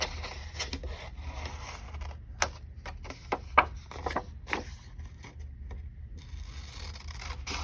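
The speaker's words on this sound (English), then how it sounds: "I'm just going to cut all that extra white paper off." Basic scissors trimming excess white paper from a 3D pillow box cutout, close and quiet, with a series of short snipping and rustling sounds spread across a low background hum.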